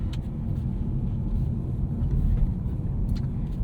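Steady low interior road rumble inside a 2022 Chevrolet Bolt EUV while driving, continuous and even throughout with no clear voices.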